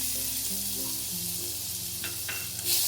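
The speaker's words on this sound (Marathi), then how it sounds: "थोडासा कढीपत्ता टाकला आहे परतून घेऊ" Curry leaves and spices sautéing in hot oil for spicy kat vada, with a continuous bright frying hiss and a couple of brief stirring scrapes near the end.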